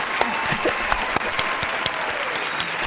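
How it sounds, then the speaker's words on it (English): Studio applause on a Ndola FM and TV breakfast show, a scattering of sharp claps and cheering over a busy room tone, with voices faintly underneath. "a big round of applause to teaching biabia how to put on headsets."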